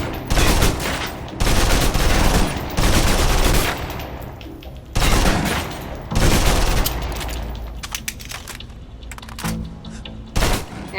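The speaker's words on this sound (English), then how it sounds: "Now, let's move on to the submachine gun. Now let's empty the clip." Submachine gun in the video game Alpha Protocol emptying a full magazine, loud rapid automatic bursts broken by short pauses, each burst a dense rattle of shots with no talking.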